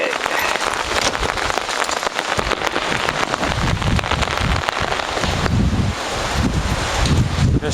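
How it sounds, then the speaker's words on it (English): Heavy rain, wind and hail from a thunderstorm in Oslo, Norway, make a dense, constant hiss and patter close to the microphone, with wind buffeting throughout. "There's even some hail. I guess Thor is really angry today. It's this Norwegian weather."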